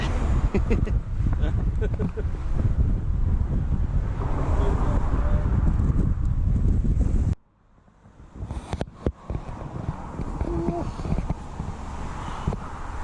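Strong storm wind buffets the microphone on the exposed gritstone edge of Bamford Edge in Storm Ellen, gusting 40–50 mph with a loud, continuous roar that drops suddenly to a lull before rising again.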